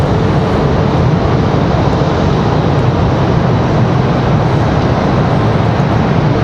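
An airliner rumbles steadily at Raleigh Durham airport, a loud, broad roar that holds constant throughout without letup, no voices present.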